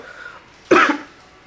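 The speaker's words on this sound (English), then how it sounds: "I still can't get rid of that little dry cough" A single short, dry cough bursts out near and fairly loud in a quiet indoor room, with faint low background before and after it.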